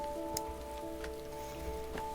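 Soft, steady in-game rainfall from the video game Heavy Rain, a constant patter with a few faint ticks and a low tonal hum underneath, with no talking.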